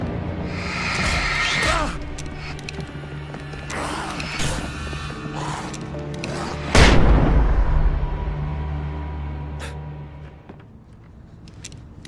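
Flashbang explosions go off in Alan Wake Remastered, a few bursts in a row with the loudest blast near the middle, each a broad sharp bang over a rumbling game soundscape.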